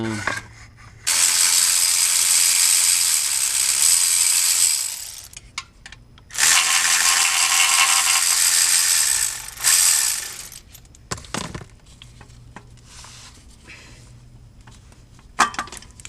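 A ratchet turning a 13 mm socket on the oil pan bolts of a 2013 Volvo S80, heard up close in two long bursts of rapid clicking separated by pauses and small metallic knocks.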